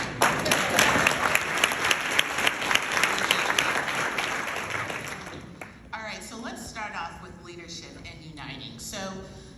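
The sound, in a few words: audience applause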